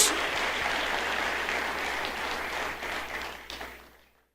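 A church congregation applauds together in a dense, steady wash of clapping that carries on loudly and then tapers away to silence near the end.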